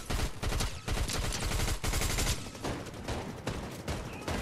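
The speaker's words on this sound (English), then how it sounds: "Oh, they're still shooting at us." Rapid automatic gunfire in the video game Fortnite Chapter 5, dense overlapping bursts and volleys continuing throughout with brief gaps, loud and close, no talking.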